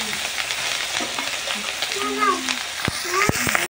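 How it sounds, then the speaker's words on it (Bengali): Fish frying in oil in a wok, a steady close sizzle running throughout with a few sharp clatters and scrapes near the end, no talking. "এবার মাছটা কিন্তু উল্টে দেবো"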